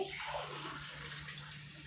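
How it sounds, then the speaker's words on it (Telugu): Water pours steadily into a pot of cooking toor dal, a close, continuous splashing rush that fades slightly over about two seconds. "నీళ్ళు పోసేసుకోండి"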